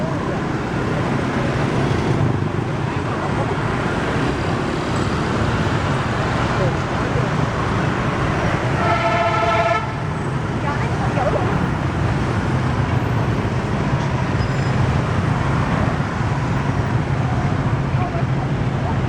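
Steady, continuous street traffic in Vietnam, cars and motorbikes flowing at a busy crossing with no traffic light, a dense roar close by with a brief horn-like tone midway, while a voice talks over it.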